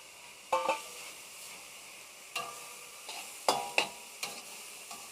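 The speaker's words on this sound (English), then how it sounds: "Continue to stir fry." Shiitake mushrooms with ground black pepper being stir fried in a wok, a steady soft sizzle broken by several sharp scrapes and clacks of the spatula at uneven intervals.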